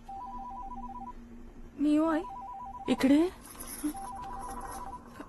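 A mobile phone rings indoors with a repeating tonal beep pattern, while voices speak over it in short bursts.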